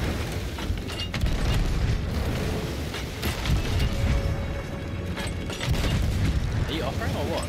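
Ship cannons fire in Sea of Thieves during a naval fight, with heavy booms and rumbling blasts in a dense, continuous game mix while crewmates talk over them.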